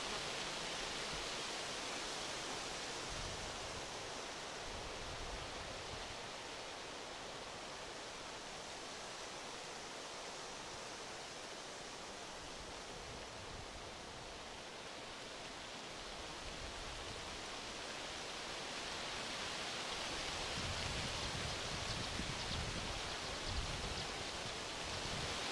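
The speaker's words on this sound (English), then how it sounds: "the sound of these aspens is one of my favorite" Wind rushes steadily through aspen trees in a soft, broad leafy hiss, swelling and easing slightly over nearly half a minute, faint and with no voices.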